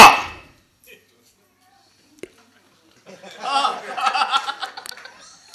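At a Haryanvi comic poetry gathering, a performer imitates a dog with a quick run of yapping, barking bursts that follows a brief spoken line and a long pause.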